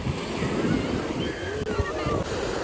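Sea waves roll and break on Malpe Beach in Udupi, a dense, continuous wash of surf with wind buffeting the microphone and no clear talk over it.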